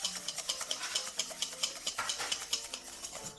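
A whisk beats oil into homemade mayonnaise in a bowl, a close rhythmic scraping swish repeating at a brisk, even pace of about three strokes per second.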